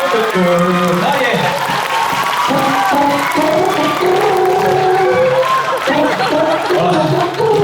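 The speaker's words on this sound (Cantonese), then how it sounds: "掌聲，唔該。" An audience on the cruise ship Royal Caribbean Voyager of the Seas claps and cheers during a karaoke show, with loud, continuous crowd noise and voices singing and calling over the clapping.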